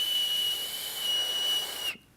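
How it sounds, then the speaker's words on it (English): A shrill safety whistle blown as a call for help, a steady piercing tone with a brief break near the middle, then cutting off abruptly at the end. "This may include a whistle, which can be used to help to call for help or alert others of your situation."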